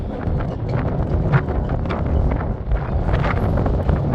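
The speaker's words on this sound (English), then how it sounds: "Ooh, that wind." Wind buffets the microphone at the top of the Bicentennial Tower in Erie, Pennsylvania, a loud, continuous rumbling gust with no talking.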